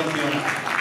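A crowd at an award ceremony applauds in a continuous, crackling wash of many hands, close and steady, with talking audible beneath it.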